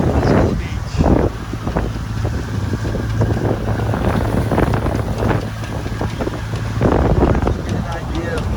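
Strong wind buffets a sailboat under way just outside Pensacola Beach, a loud continuous rush with gusting bursts and low rumbling against the microphone, and a voice speaking now and then beneath it.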